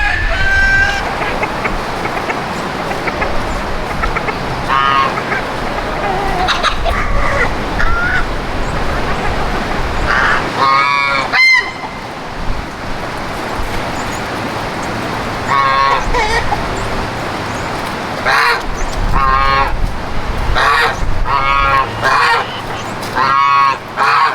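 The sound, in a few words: geese honking on a homestead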